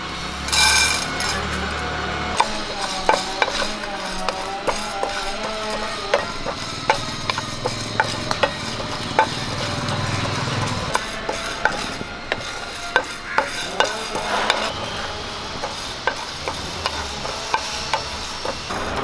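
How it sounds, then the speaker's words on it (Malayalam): Black pepper, fennel and cumin dry-roasting in a pan, with rattling, scraping stirring and repeated sharp clicks of a utensil against the pan, close and fairly loud. "ഇത് നമുക്ക് കുരുമുളകും പെരുംജീരകവും ജീരകവും കൂടി ഇതിലിട്ടൊന്ന് വറുത്തെടുക്കാം."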